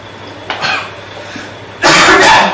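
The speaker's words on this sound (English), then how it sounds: "Sorry, I'm coughing a little bit." A short cough followed by a louder, harsher burst of coughing, close and alone without talk.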